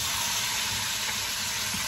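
Minced garlic sizzles in a pan, a steady, close, hissing crackle that fills the whole moment without breaks or talk.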